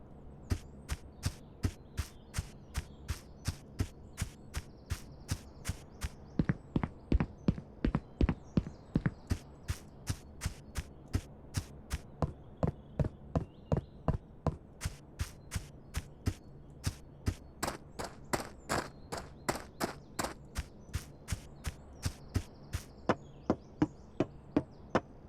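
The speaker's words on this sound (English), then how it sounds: "first thing we have is footsteps, and these are for a few different materials." Footsteps in an Unreal Engine 5 game crossing several surface materials, a steady stream of sharp, regular clicking steps at a walking pace, close and alone, with slight changes in texture across the sequence.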